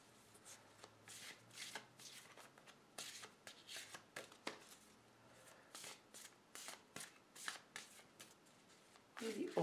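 A deck of tarot cards is shuffled close by in a quiet room, with a dozen or so quick papery riffles and bursts coming in an uneven rhythm, separated by brief pauses.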